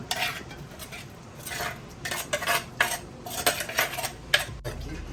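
Boti is tipped into a pot of cooked tapioca and stirred, producing repeated metallic clinks and scrapes of a spoon against the pot in an irregular rhythm, close and with no talking.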